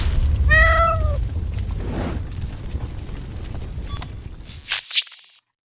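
A cat gives a clear, drawn-out meow up close, followed by quieter rustling and a few sharp knocks before the sound cuts to silence.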